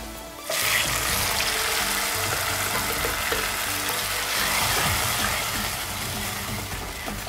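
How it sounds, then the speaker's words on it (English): Tomato puree hits a hot pan of browned onions for an egg stew and erupts into a loud, steady sizzle that begins abruptly and continues hissing close up without talk. "So there's going to be some sizzling."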